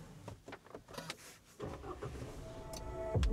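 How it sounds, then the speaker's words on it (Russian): A diesel car engine cranks and catches partway through, settling into a steady, rising idle close by. Softer clicks and cabin sounds come before the start. "Давайте заведем автомобиль."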